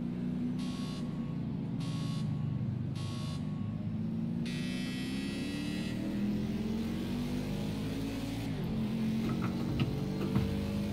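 A race car engine in the video game Project Cars 2 drones and revs steadily, its pitch rising and falling through gear changes, with intermittent buzzer-like warning tones layered over it.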